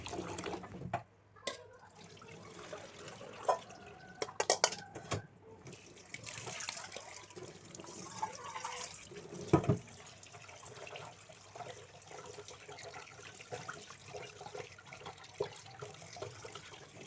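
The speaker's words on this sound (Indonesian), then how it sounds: "Kemudian saya cuci bersih dan dicuci dengan air mengalir juga" Tap water runs and splashes as potatoes are rinsed in a kitchen sink, a soft continuous flow with intermittent clatter and handling knocks, fairly quiet throughout.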